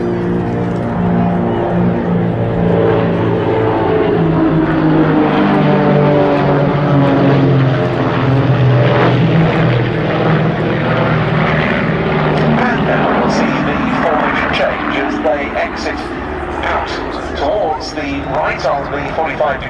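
A formation of six RV-8 propeller aircraft at an air show drones overhead in a loud, steady engine roar that swells and shifts in pitch as they pass, with an announcer speaking throughout.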